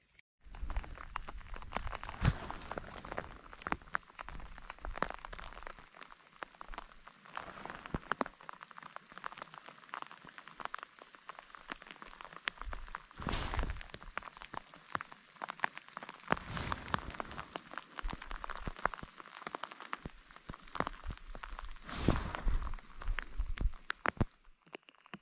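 Steady rain falls outdoors in a mountain setting, a dense continuous hiss of drops on surfaces with scattered louder patters, close and even throughout with no voices.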